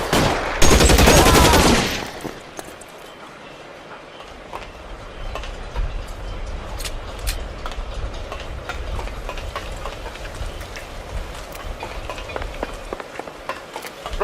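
Gunfire in an L.A. Noire shootout opens with a loud, dense burst of shots, then gives way to quieter sporadic cracks and pops over a low rumbling game ambience for the rest of the clip.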